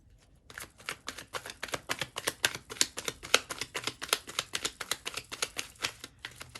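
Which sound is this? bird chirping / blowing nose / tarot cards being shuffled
tarot cards being shuffled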